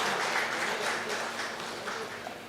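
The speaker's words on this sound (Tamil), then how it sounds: "உங்களுடைய கைத்தட்டல் மூலமாக உங்களுடைய வாழ்த்துக்களை தெரிவித்துக் கொள்ளலாம்" Applause from an audience at a temple gathering for the Narasimha Swamy temple trustees, a steady wash of many hands clapping at moderate volume throughout, without talk.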